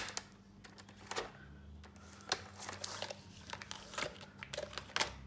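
Paper circles are cut out for a homemade cookbook, quiet irregular snips and rustles of paper close by, with no talking.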